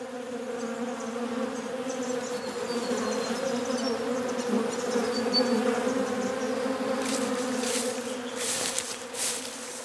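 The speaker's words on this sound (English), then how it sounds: "in the case of the bees, they may well be collecting pollen" Bees buzz steadily nearby, a continuous droning hum with a few sharper passes of wings near the end, heard alone outdoors.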